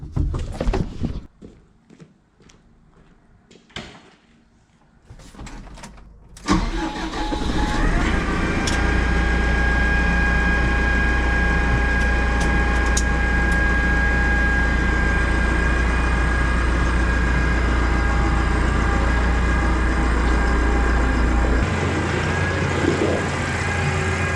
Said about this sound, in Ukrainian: Зараз йдемо, ганяємо новий трактор від прицепа, бо він нам не нужен.